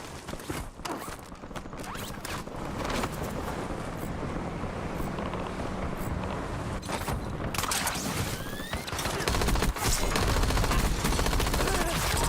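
Sustained weapon fire in Call of Duty: Warzone, a continuous wash of rapid shots and crackling impacts with sharp transient bursts, growing louder toward the end.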